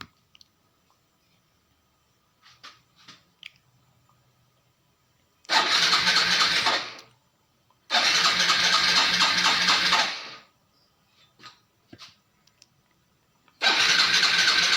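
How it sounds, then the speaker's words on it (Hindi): A Hero Super Splendor motorcycle's electric self-starter cranks in three long whirring bursts separated by pauses and faint clicks, and the engine never catches. "ये गाड़ी न सेल्फ से स्टार्ट होती है न किक से स्टार्ट होती है।"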